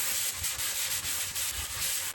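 A wooden cutting board is sanded by hand with 80 grit sandpaper in quick, regular back-and-forth strokes, a close, steady scratchy rasp with no talking.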